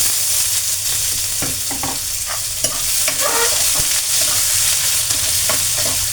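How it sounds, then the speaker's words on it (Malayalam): Dried red chillies and finely chopped onion fry in a pan, giving a loud, continuous close sizzle with scattered crackles and stirring scrapes throughout. "4 വറ്റൽമുളക് ഇതിട്ട് ഒന്ന് മൂപ്പിച്ച് കഴിഞ്ഞ് നമുക്കൊരു കാര്യം ചെയ്യാം"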